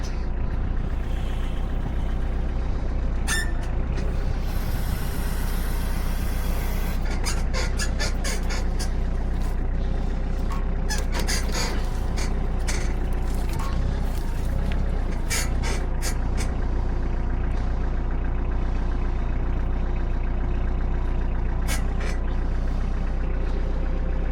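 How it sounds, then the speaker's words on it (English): A small-scale hydraulic log loader powered by a tractor runs with a steady low engine drone, with intermittent hissing bursts and clanks from the hydraulics and grapple over the continuous rumble. "One of the nice things about having the loader, getting hydraulic power from the tractor, is it's quiet."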